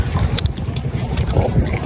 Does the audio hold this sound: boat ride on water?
yes